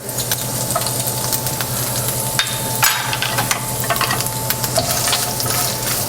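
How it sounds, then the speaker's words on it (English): Chopped onion sizzles in hot oil in a frying pan while cooking for spaghetti and meatballs: a close, steady crackling fry with brief scraping stirs and small pops throughout, no talking. "We're going to put our 1/4 cup of onion in there"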